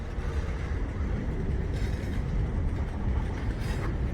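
Loaded boxcars and tank cars of a freight train roll steadily past, with a dense rumble and faint clatter of wheels, close and continuous.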